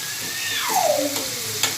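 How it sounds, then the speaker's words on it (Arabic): Potatoes frying in a pan, a loud and steady sizzle and crackle close up, with a gliding whine and a few light clinks of a utensil over the top, no voices. "درت هنايا المقله كتقلى فيها بطاطا"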